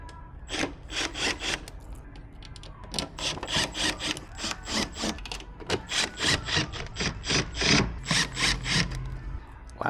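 Screws are driven into a Husky adjustable worktable during assembly, giving repeated rhythmic ratcheting or scraping bursts in quick runs with short pauses, close and fairly loud, no talk.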